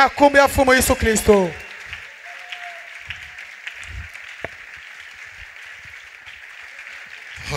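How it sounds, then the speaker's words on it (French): A voice speaks briefly, then a church congregation breaks into applause, a broad, steady patter of many hands that carries on for around six seconds, quieter and a little distant. "Applaudissez très très fort."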